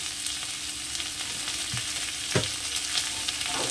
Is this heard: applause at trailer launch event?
no